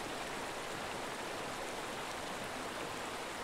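Rushing water of a mountain torrent, a dense, steady hiss and roar of turbulent flow, close and continuous with no other sounds.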